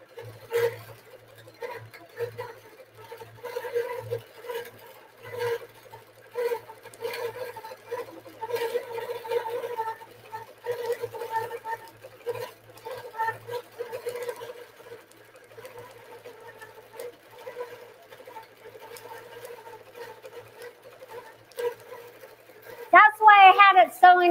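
An automated quilting machine stitches a larger quilt design, its needle running in a fast, steady, close mechanical rhythm with short pauses, while someone speaks over it and a brief squeak comes near the end.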